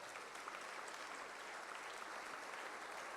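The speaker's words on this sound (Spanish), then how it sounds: "Dele ese aplauso" Church congregation applauding during a Sunday communion service, a faint but steady wash of clapping from the hall with no voices standing out.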